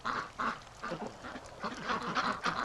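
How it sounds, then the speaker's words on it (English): Rouen ducks quack repeatedly in a close, busy chorus, overlapping calls rising and falling in steady bursts with no talking. "They're quacking over here."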